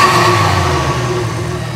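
Volvo five-cylinder engine revving hard with the intake roaring loudly, a steady, close, dense engine drone held for the whole moment with no voices.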